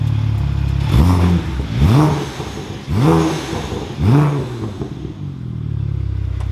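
A BMW E90 335i engine with a lightweight flywheel revs up sharply four times in a row, each rise quick and loud before dropping back to a rumbling idle, heard up close.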